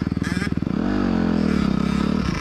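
A 2021 Honda CRF 250R dirt bike engine idling with a fast, close putter, then revving up into a sustained high buzz before dropping back, loud and up close.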